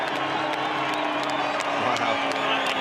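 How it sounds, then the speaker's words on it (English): Crowd cheering at the finish of the Bathurst 1000 race, a dense, continuous roar of voices with scattered whoops and clapping, loud and steady throughout, with no clear speech. "You can hear the cheers inside and outside the car as Murphy and Kelly make it 2 in a row."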